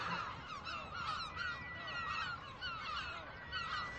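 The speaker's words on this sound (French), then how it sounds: "il y a beaucoup de goélands" Gulls call at a nesting colony on the island of Fort Cigogne in the Glénan archipelago, with many overlapping harsh cries and honks at a distance over a steady background hiss.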